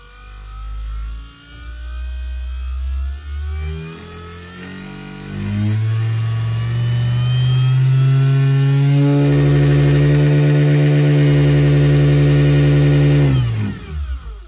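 A small DC motor powered from a GVDA 30V 10A bench power supply spins up, its whine rising steadily in pitch and loudness as voltage increases, holding a loud steady tone before cutting off abruptly near the end.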